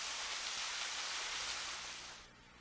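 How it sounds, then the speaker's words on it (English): Water roars through the rain room of a cave, a loud, dense hiss like heavy rain falling on rock that continues steadily, then drops sharply in level near the end. "A sound that is the roar of the rain room begins as we explore upstream from the elbow room."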